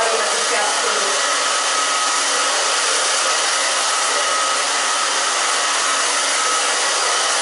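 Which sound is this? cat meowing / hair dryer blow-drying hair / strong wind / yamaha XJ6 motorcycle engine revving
hair dryer blow-drying hair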